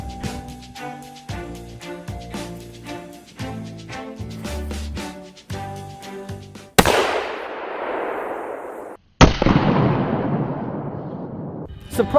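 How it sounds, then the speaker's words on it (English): A propane can is blown up with explosives, arriving as two sudden loud blasts with long roaring decay, the second after a brief gap, following a stretch of music. "Have you ever wondered what happens when you blow up a can of propane?"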